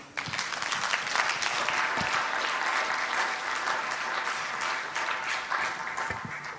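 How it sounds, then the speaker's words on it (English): An audience at a diaspora investment meeting claps continuously, a dense wash of applause that stays steady throughout. "Let's give him a round of applause again"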